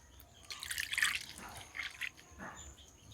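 Soybeans are rubbed and washed by hand in water, giving close splashing and dripping in a few uneven bursts followed by quieter trickles, with no speech.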